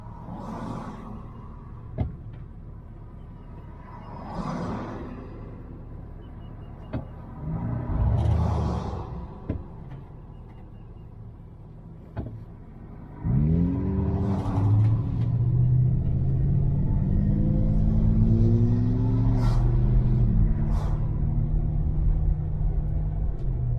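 School traffic passing on a road in Watkinsville, Oconee County, Georgia: a series of cars swish by one after another, then a louder, rumbling heavy vehicle with a rising engine drone passes close.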